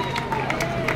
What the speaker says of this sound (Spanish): El aplauso de sus compañeros.